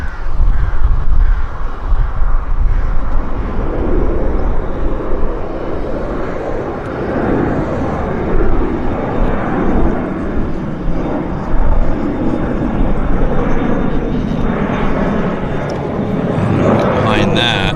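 An Embraer airliner rumbles at Vancouver YVR airport, a broad continuous engine roar swelling and fading in the distance, with crow caws and outdoor ambience mixed in.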